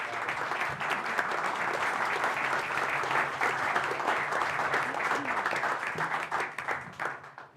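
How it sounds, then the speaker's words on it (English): A room full of people at a Waterville city council meeting applauds, steady dense clapping that carries on for several seconds before gradually thinning out. "We can clap."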